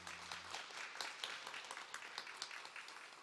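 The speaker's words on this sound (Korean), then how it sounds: "우리 아가페 찬양팀 위해서 우리 한번 감사와 격려의 박수 하도록 하겠습니다" A church congregation applauds the Agape praise team after their worship singing, a steady, moderately distant patter of many hands with scattered sharper claps running throughout.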